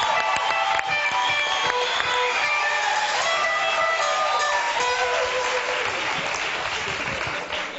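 Studio audience of a late-night talk show applauding loudly and steadily, dense clapping from many people filling the room, with a faint voice and some musical tones beneath.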